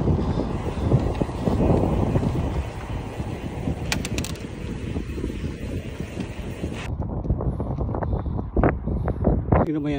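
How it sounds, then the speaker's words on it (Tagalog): Strong wind buffets the microphone on a lakeside bike trail, a continuous rough rumble with gusty swells throughout, loud and close, with rider speech mixed in. "Lakas na ng hangin."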